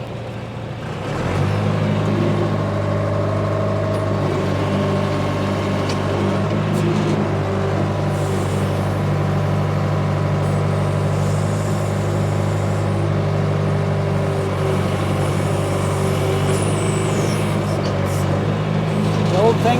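An old 1979 John Deere 310A backhoe loader with a 62 hp engine runs in a steady, close drone that firms up after the first second and holds for about twenty seconds.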